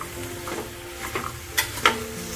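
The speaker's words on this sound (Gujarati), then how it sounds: "અને મસ્ત પાંચથી સાત મિનિટ ઘીમાં સાંતળવાના છે" Carrots sautéing in ghee in a pressure cooker for carrot halwa, a soft steady sizzle with several louder stirring scrapes and clinks spaced through the clip.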